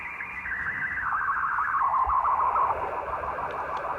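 Detuned sideband radio transmission picked up on a homemade quarter-wave whip antenna tuned to 433 MHz, heard as a continuous warbling tone that slowly drifts downward in pitch over hiss, steady and fairly loud throughout.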